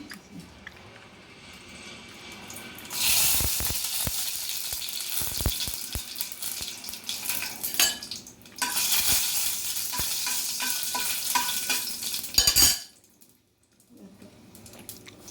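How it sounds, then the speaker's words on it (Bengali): Two dried red chillies hit hot oil in a wok and burst into loud, crackling sizzles in two long surges. Quieter frying and stirring sounds fill the gaps, and the sound drops off abruptly near the end. "কড়াইতে তেল তো অলরেডি গরম বসিয়ে দিয়েছি। এতে 2টো শুকনো লঙ্কা দিচ্ছি।"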